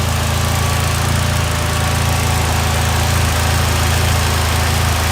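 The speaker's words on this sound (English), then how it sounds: "while the car's running, I like to just look at the engine bay, enjoy it, check around for any leaks" The engine of a turbocharged Mitsubishi Lancer idles in a loud, steady rumble with a pulsing low drone that holds constant and close for the whole stretch, with no voices.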